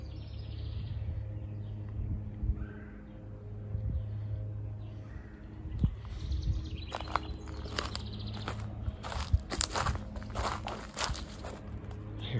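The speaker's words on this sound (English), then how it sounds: "A bunch of birds over here?" Faint scattered bird chirps in an outdoor area, mixed with crunching footsteps and rustling, growing busier and more frequent toward the end.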